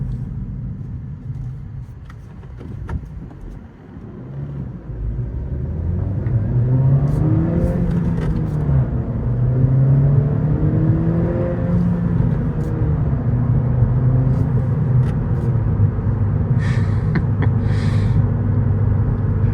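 A 10th-generation Honda Civic Si engine revs while driving, a loud in-cabin rumble climbing through rising pitch sweeps, easing, then pulling up again with no talk over it.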